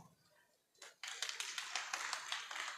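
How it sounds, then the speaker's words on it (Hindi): Audience at a speech breaking into clapping: after a quiet start, a burst of fairly distant, crisp claps begins and continues in an uneven patter. "जो ताली बजा रहे हैं वही सही"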